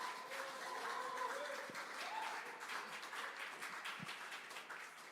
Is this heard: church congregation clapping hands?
yes